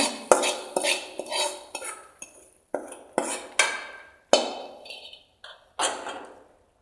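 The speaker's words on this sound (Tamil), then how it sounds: "இதை அப்படியே இனி கலக்கி விட்டுக்கலாங்க." A spoon clinks and scrapes against a metal pot in a steady series of bright strikes, close by, with no talking, as tempering is stirred into buttermilk curry.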